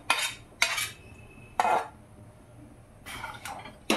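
Sautéed vegetables tipped into a pot of khichuri, with several separate scraping, clanking bursts from a metal spoon against the pot at uneven intervals over a quiet background.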